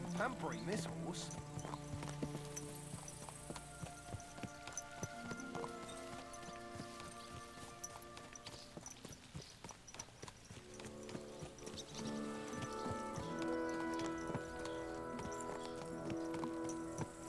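Horse hooves clip-clop steadily in Kingdom Come: Deliverance II, with a whinny among the steps, while a voice talks over them throughout.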